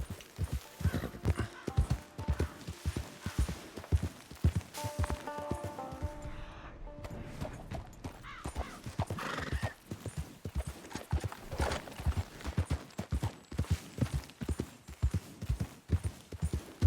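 Horse hooves clip-clopping in the video game Red Dead Redemption 2, a steady rhythmic walking gait heard close for the whole stretch, with a brief whinny partway through.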